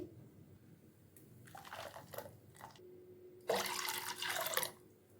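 Water pours and splashes into a ground pani puri paste in short bursts, followed by a longer, louder stream near the end.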